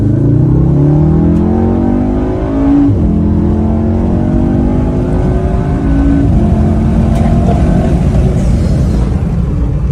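Tuned Volkswagen Golf 7R, 360 hp and 500 Nm, braking hard: a loud, close engine note steadily drops in pitch over continuous road and engine roar.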